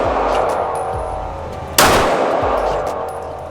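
A Glock 17 pistol fired at a range, one sharp close shot cracking out over steady background noise and fading quickly, with faint distant pops around it.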